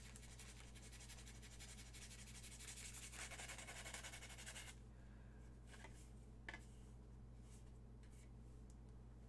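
Faint, steady sandpaper rubbing on an armor part for a Star Wars tank trooper costume, a continuous scratchy scuffing that thins out midway, with a low hum underneath and no talk.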